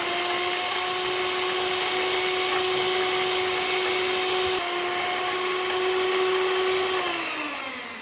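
A steady, loud electric mixer whirs through cookie dough after vanilla essence goes in, holding a constant drone before its pitch drops as it slows near the end, with no voices.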